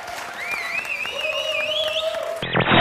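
An audience claps in a television studio, a dense, continuous wash of applause, while tonal whistling and musical tones ride over it and a louder burst of sound cuts in at the end.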